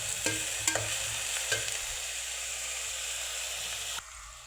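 Bay leaves and cardamom dropped into hot oil for a duck curry, giving a soft continuous sizzle with a few light stirring clinks before it cuts off abruptly near the end.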